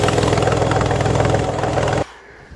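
A 1991 Ford Taurus engine runs loud and rough with its exhaust manifold removed, giving a harsh, raspy open-port roar close by for two seconds before cutting off abruptly.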